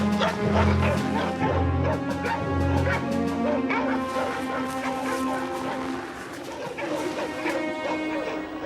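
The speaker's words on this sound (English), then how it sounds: "The dogs have spotted the animal" Dogs in snowy wilderness barking and yipping at a tiger cub, several loud excited barks in quick bursts with whimpers between them, close by and alone without talk.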